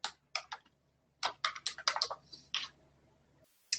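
Quick bursts of typing on a computer keyboard, keys tapped in short uneven clusters with brief pauses between them, fairly close and clear against a quiet room.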